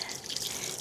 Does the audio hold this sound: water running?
yes